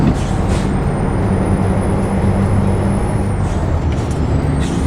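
A Freightliner FLB truck in the driving game American Truck Simulator, with its trailer air brake engaged, a steady loud engine drone and an ongoing hiss of air, no voices.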